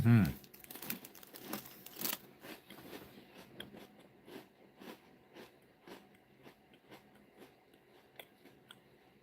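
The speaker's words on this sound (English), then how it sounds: "I know you guys can probably hear me chewing." A person eats a meal near the microphone: soft, rhythmic chewing and crunching with occasional crinkling, faint and steady for several seconds after a louder rustle at the start.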